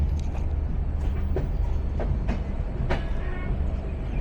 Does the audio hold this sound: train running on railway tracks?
yes